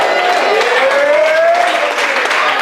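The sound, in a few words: audience clapping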